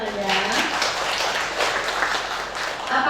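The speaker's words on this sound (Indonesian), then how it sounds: "Boleh tepuk tangan ya." An audience of parents at a school orientation session applauds, a dense, continuous patter of clapping, with a voice briefly audible at the start.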